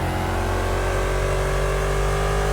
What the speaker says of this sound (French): Oh, l'accélération, ce que je mets à la Porsche qui essaie de me suivre